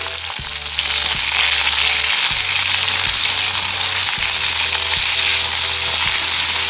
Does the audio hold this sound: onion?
yes